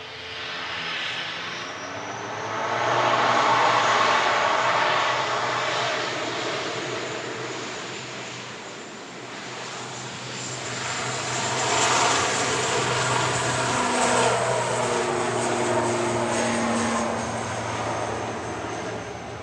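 An Aer Lingus UK ATR 72-600 turboprop bound for Belfast drones steadily with propeller hum and engine tones, swelling louder mid-pass, easing, then rising again at moderate distance.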